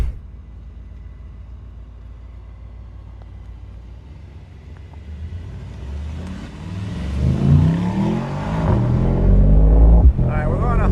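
Engine of a Mythos sports car out on a drive, starting as a low steady idle rumble that swells into louder revving and acceleration in the second half, with people talking over it.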